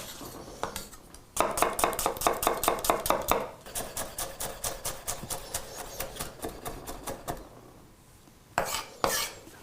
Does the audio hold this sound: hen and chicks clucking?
no